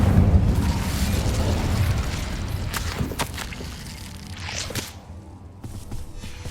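A fire spell being cast in the Hogwarts Legacy video game: a rushing, crackling burst with a few sharp pops and a swelling whoosh, then a darker fading tail, fairly loud and close with no talking.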